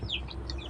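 Backyard chickens clucking in a brief, close cluster of a few quick calls over a steady low background.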